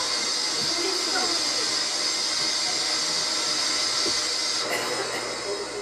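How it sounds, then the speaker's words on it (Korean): A household vacuum cleaner runs steadily with a broad, continuous hissing roar, loud and close, with a slight shift in tone near the end. "목 놓아 울던 아기가 순식간에 울음을 그친 건 청소기 소리가 태아 때 들었던 소리와 비슷해서다"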